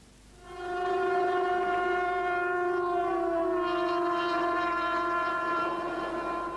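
A long, steady train whistle or horn sounds loud and close, holding a single tone throughout, from a train carrying prisoners to a camp.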